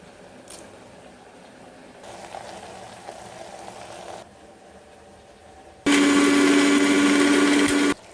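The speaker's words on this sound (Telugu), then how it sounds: "అల్లం వెల్లుల్లి ధనియాలు జీలకర్ర గసగసాలు మసాలా దినుసులు వేసి మిక్సీ పట్టి" A mixer grinder runs on ginger, garlic, coriander, cumin, poppy seeds and whole spices, starting faintly, then roaring loud and steady for about two seconds before cutting off abruptly.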